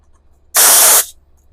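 Handheld air blaster detailing tool fed by a small electric compressor fires one loud, close half-second blast of hissing air, then cuts off into near silence.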